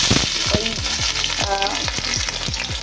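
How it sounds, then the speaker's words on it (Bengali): Water spinach frying in a pan with garlic and onion, a close, steady sizzle with repeated scraping strokes of stirring, no voices. "কলমি শাকটা ভাজা হচ্ছে"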